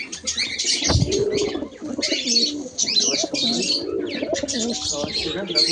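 Fantail (lokka) pigeons coo steadily in a home loft, with wing flaps and bird chirps mixed in at close range, alongside a pair with a newly hatched squab.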